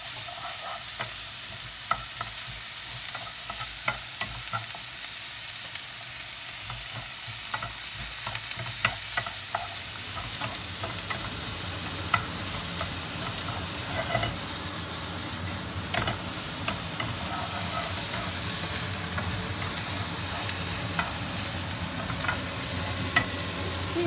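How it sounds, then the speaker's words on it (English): Onion and pumpkin chunks sizzle and crackle steadily in a hot pan, with occasional scraping and stirring sounds over the frying, no talking. "but I'm frying it all"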